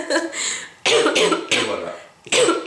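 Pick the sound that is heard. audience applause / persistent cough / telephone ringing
persistent cough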